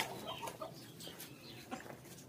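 A Polish chicken clucks softly in a hatchery coop, giving a few brief close calls over low background noise.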